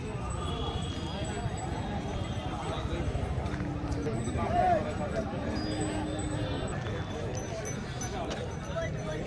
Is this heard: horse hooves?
yes